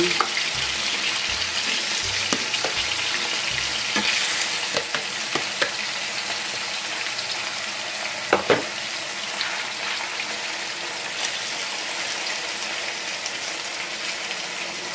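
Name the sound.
skinless boneless chicken breast frying in a pan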